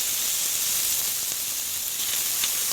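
Smoked turkey bacon in oil sizzles steadily in a pan as it is stirred, a close, even hiss with a few faint pops and no talking.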